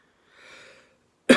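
A faint breathy sound, then one short, sharp tickling cough bursts out at the very end, at night.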